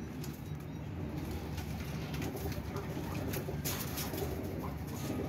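Low, continuous cooing from a group of flying pigeons, including a white pied bird, as they are shown off, faint and steady with some background noise.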